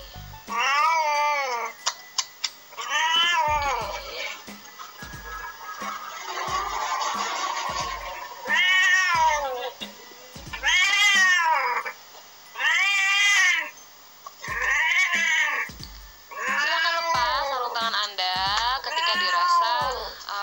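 A cat meows and yowls repeatedly during a bath, loud and close, in drawn-out wavering cries with short pauses between them.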